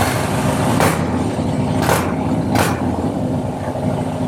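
Harley-Davidson twin cam engine running after a spark plug change, a loud close-up throaty idle with a few sharp revving blips.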